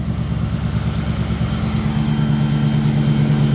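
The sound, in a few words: Toyota 1UZ engine idling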